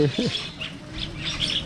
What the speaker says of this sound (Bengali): এই পাখিগুলোকে খালি আপনি চানাচুর বা যাই হোক একটু খালি খাওয়াবেন, একবারে ঝাঁক ভেঙে চলে আসবে।